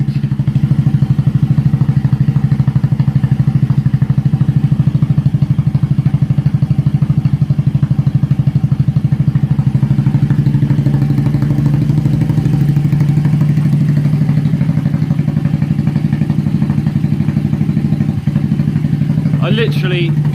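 A Honda Ruckus scooter with a GY6 engine idles with a steady, throaty low rumble from a loud aftermarket Yoshimura exhaust, close by and continuous, with a brief clatter near the end.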